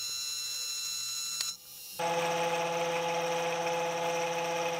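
A metal lathe tool feeds into the workpiece towards a machined shoulder; a steady motor hum drops briefly with a sharp click, then resumes as a louder, bright, hissing cutting whine close by.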